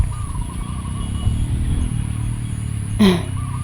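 A farm tractor engine drones steadily nearby in the countryside, a continuous mid-pitched rumble with a brief louder surge near the end, with no one speaking.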